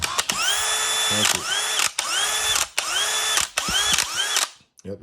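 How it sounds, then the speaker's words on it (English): DeWalt DCD999B FlexVolt hammer drill/driver revved in several short whining bursts, each ending with a sharp click and ratcheting as the trigger is released, close and loud. "it has that age-old click once you let off the gas on this with DeWalt"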